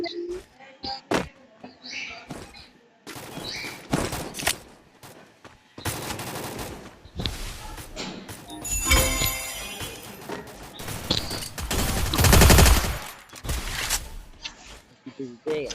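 Gunfire in the Free Fire video game, bursts of single shots and rapid automatic volleys of varying loudness, mixed with game sounds and chirps, with talk over parts of it.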